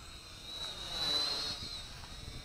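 A Syma X5C micro quadcopter drone running on a 350 mAh battery flies nearby, giving a steady high buzzing whine of small motors. The whine swells slightly and then eases, fairly faint over background hiss.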